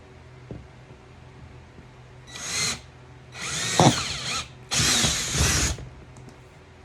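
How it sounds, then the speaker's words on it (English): A handheld power drill spins a larger bit through an existing pilot hole while making a plumbing-parts auger handle, three separate close, loud whirring bursts with short pauses between them. "Like here's the bigger drill bit."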